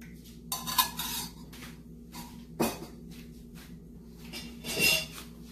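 Pork chop marinade with sriracha sauce and oil being mixed in a bowl: scattered clinks and scrapes of a utensil against the dish, a sharp knock midway, and soft stirring between, with no talking.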